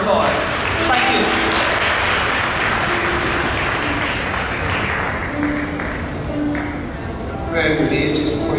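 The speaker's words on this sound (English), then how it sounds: "you need to give yourselves a round of applause" A church congregation applauds during Sunday morning worship, producing a dense, steady wash of clapping that fills the room for the whole stretch, with voices mixed in under it.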